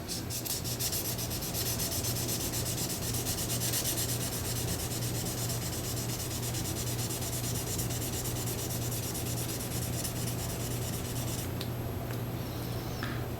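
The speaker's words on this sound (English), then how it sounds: "And I got some 2000 grit sandpaper." A satin bass bridge being hand-sanded with 2000 grit sandpaper, a steady close rubbing scratch with continuous even strokes and no talk.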